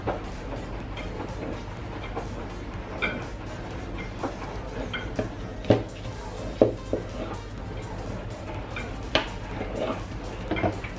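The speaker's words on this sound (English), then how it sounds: "So I'm just going to cut them and scoop them out." Soft, crispy-skinned baked potatoes are cut and scooped out, giving scattered light clinks and scrapes of utensil against skin and dish over a low steady background hum.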